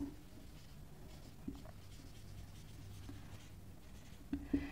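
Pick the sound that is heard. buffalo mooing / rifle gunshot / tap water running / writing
writing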